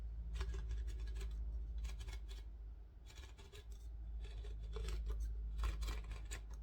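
Scissors or snips cut around the thin aluminum wall of an Arizona tea can, meant for candle making, with repeated close, rasping snips in bursts and short pauses between them.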